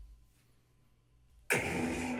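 A Jawas Junkyard 'Lost Soul' lightsaber hilt with a crystal reveal chassis ignites after a quiet pause, bursting into a sudden loud, sustained hum.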